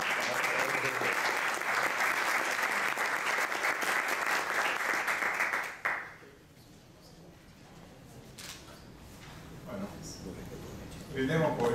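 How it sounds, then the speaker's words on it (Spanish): A crowd applauds loudly and steadily for several seconds, then the clapping cuts off abruptly, leaving quiet room murmur and scattered voices. "Bueno, un aplauso para él."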